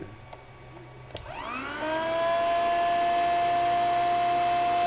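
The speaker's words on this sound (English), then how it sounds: "now let's see how much power we're using to vacuum" A vacuum sealer runs its vacuum cycle, its motor kicking on after a brief click and rising into a steady, close whine with a clear tonal hum that holds at constant loudness.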